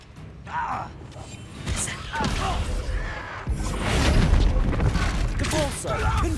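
Bombarda explosion spells in Hogwarts Legacy boom and thud amid a busy magical duel, with voices casting spells over the repeated impacts.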